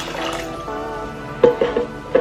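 Water poured into a pot already holding lemon and a cinnamon stick for a homemade tea, making soft splashes and a few distinct liquid plops near the end, with faint background voice.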